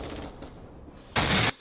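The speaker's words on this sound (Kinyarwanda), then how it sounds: "Tangira kumva amasasu." A short, loud burst of rapid gunfire erupts in a film scene, following a stretch of low rumbling background.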